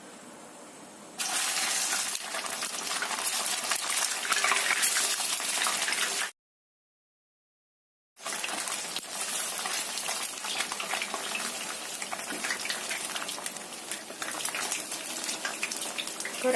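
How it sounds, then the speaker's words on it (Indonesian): Food rolled in egg sizzles and crackles in hot oil in a frying pan as a loud, dense, continuous hiss that cuts out for about two seconds and then resumes unchanged. "Goreng sampai kuning kecoklatan atau kuning keemasan sampai matang"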